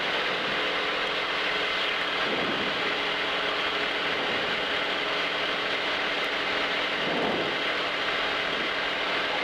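Light complex aircraft engine droning steadily through an approach and go-around, a loud continuous hum with no voices over it.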